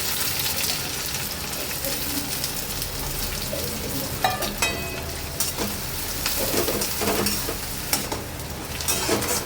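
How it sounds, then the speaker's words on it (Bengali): Sliced onions sizzle and crackle in hot oil for berista, a dense steady frying hiss with sharper spatters and stirring clatters scattered through. "পেঁয়াজগুলো দিয়ে দিচ্ছি বেরেস্তা ভাজার জন্য"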